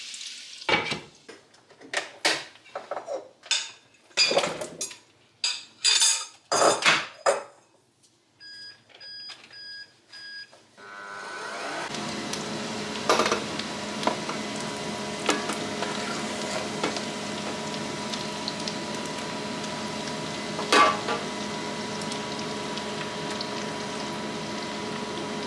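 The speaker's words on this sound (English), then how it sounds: "So now I've just heated up on low heat the lard and we're going to saute the shallots in it." Shallots sautéing in heated lard inside an ActiFry cooker give a steady, close sizzle that starts partway through, after a stretch of scattered clanks and taps, then runs continuously with occasional sharper pops.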